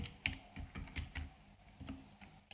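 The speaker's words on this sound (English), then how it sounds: "We have to start typing." Typing on a computer keyboard while entering a date into an Excel spreadsheet cell; a quick, uneven run of soft clicks and key taps, close and fairly quiet, with no voices.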